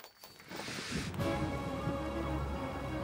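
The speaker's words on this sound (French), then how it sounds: "Il faisait nuit, la pluie ne cessait de tomber et un vent glacial soufflait sur le royaume de Magix et sur Alphea." Stormy night rain in a French-dubbed fairy cartoon, a dense steady downpour hiss with low rumbling wind rising after a quieter start, continuous and fairly loud with no speech.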